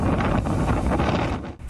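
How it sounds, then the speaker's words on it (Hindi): Strong winds of Cyclone Yaas lashing the coast at Digha, East Midnapore, heard as loud, constant gusting rumble and buffeting against the microphone, with surf blended into the roar. "ऊंची लहरें हैं, तेज हवाओं का शोर है"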